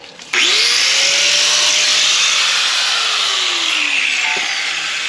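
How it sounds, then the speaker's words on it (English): An angle grinder grinds welded metal patches in a car's rear wheel well. The harsh, loud, continuous whine starts abruptly after a brief pause and holds steady, with its pitch shifting slightly as the disc works the metal. "All right, let's get the grinder and a shield on our freaking balls, eyeballs, so we won't go blind."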